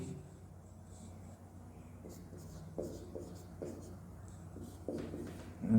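Pen or pencil writing numbers by hand on paper during a class nine number system maths lesson, faint close scratching strokes in short irregular bursts, with soft quiet speech in the background.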